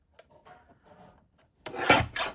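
A paper panel is sliced on a paper trimmer while making a Halloween card, giving a loud, close rasping swipe near the end after a stretch of quiet, faint handling rustles.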